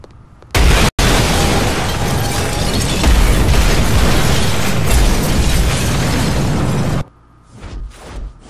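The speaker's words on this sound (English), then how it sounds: "that's a pretty hefty explosion, I'll say that" A loud, sustained explosion in the Saints Row video game erupts suddenly after a brief pop and roars steadily for several seconds before cutting off, leaving quieter game sounds behind.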